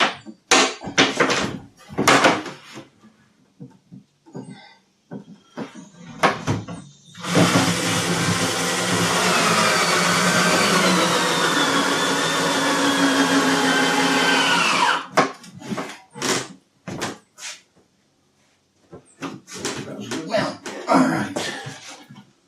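Cabinet-mounting screws are power-driven into a wall to mount an armoire, one sustained whirring drive of several seconds, with short knocks and handling thumps before and after.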